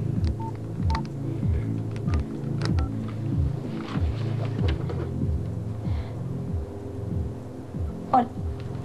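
A phone number is dialed on a telephone, a rapid series of distinct keypad tones in an irregular rhythm, close and clear, with a brief voice near the end.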